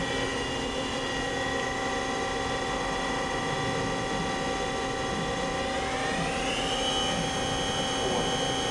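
AWEA 5-inch CNC table-type horizontal boring mill, 2012, with its spindle running at 2,500 RPM; a steady high mechanical whine with layered tones over a constant machine hum, shifting upward near the end, no speech.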